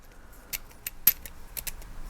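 Sharp metallic clicks from the finely machined parts of a 1/2 scale WW2 British Sten submachine gun model by GHK Miniatures, about half a dozen crisp close ticks spaced irregularly in a quiet room.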